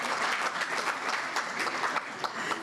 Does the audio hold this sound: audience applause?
yes